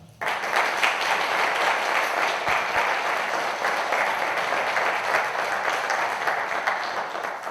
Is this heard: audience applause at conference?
yes